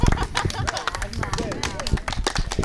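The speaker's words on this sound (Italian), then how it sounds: "Un applauso." Applause from a studio audience during an Italian television game show, a dense patter of clapping under a loud host's voice and cheering.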